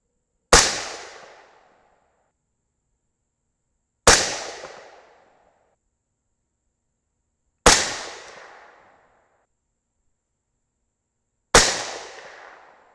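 Four sharp rifle shots from a .224 Valkyrie firing 90gr Sierra Match King bullets, evenly spaced about four seconds apart, each a loud crack with a brief decaying tail into silence.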